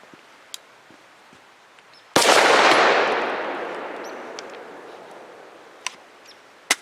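A newer Grand Power Stribog Mega fires without a suppressor: one sharp, loud report with a long echoing tail that slowly fades outdoors, followed by a few faint clicks.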